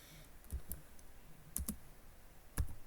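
A few slow, isolated clicks on a computer keyboard, faint and close, spaced roughly a second apart in a quiet room.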